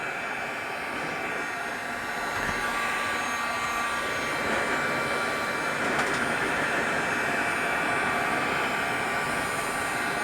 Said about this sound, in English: I'm going to get my dryer out here.